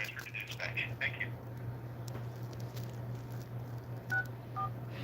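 Telephone keypad DTMF tones dialing an extension on a phone line, a quick run of beeps at the start and a few more later over a low steady hum.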